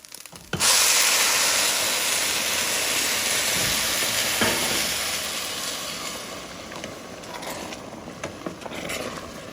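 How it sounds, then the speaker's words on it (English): Loud, steady sizzling and crackling of oxtail searing in a hot pot, a dense hiss with scattered pops that eases slightly over time. "It's making that crackling sound because it's screaming now for some water."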